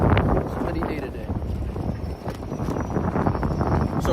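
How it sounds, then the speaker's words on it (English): Wind buffeting a microphone outdoors at a camp on a warm, windy day, a steady low rumble with gusty swells over about four seconds, and a voice talking over it at times. "It's windy out here, boy."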